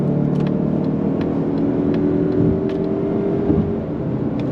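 A 2024 Mazda CX-30 Turbo with a 6-speed automatic pulling hard on throttle, a steady, smooth engine drone rising in pitch from inside the cabin, with faint clicks over it.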